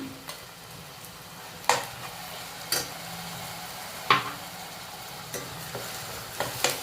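Onion paste fries in a pan for Andhra-style fish curry, with a steady sizzle broken by several sharp scrapes and clinks of a stirring spoon, close up and without talk.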